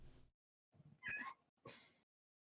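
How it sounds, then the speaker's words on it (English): A domestic cat meows close by, three separate calls with short pauses, the last one rising into a sharper, louder cry, with no talking. "That's my cat."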